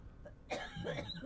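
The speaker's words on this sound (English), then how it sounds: "I'm gonna cough." One close, abrupt cough, with some faint rustling and a soft throat noise after it.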